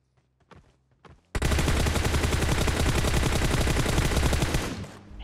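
A long, rapid burst of automatic gunfire rips loudly in PUBG Mobile after a few scattered quieter shots and footsteps, the stream of shots continuing for several seconds before cutting off.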